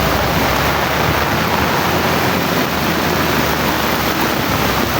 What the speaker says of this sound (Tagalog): Sobra pang lakas ng hangin mga kasangga. Grabe yung lakas na bagyo ito.